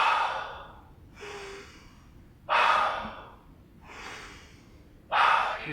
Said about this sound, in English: If we breathe together, just a few breaths like,